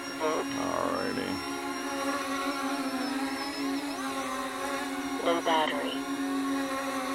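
An FPV drone's motors whir steadily over a lake, a sustained buzzing hum with small pitch wavers as it flies, while a synthetic voice alert and a person speaking break in briefly.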